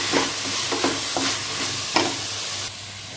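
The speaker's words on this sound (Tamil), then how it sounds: "இந்த தக்காளி இஞ்சி பூண்டு நல்லா வதங்கணும், தக்காளியெல்லாம் நல்லா வதக்கிக்கணும்" Tomatoes with ginger and garlic sauté in a pan for veg biryani: a constant hiss of sizzling with several distinct spatula scrapes at irregular intervals, close and fairly loud, no one talking.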